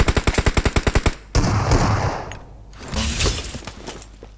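Video game gunfire rattles out as a rapid burst of about ten loud, evenly spaced shots, cut off abruptly by a crash of shattering debris and a rumbling clatter.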